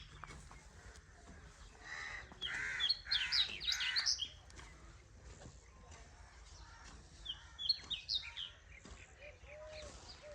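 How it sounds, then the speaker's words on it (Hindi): A small bird sings in short bright, twittering phrases at a distance in a Punjab village, with a quiet background hum between the bursts. "आज सुकून घर में एक परिंदा बोल रहा है तो बिल्कुल छोटी सी एक चिड़िया"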